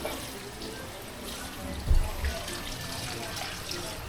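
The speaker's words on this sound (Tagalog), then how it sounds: "Kasi malakas yung tagas eh. Drain yan, ma." Water leaks hard from a household drain in a steady, rushing trickle with a brief splashy thump midway, while voices talk nearby.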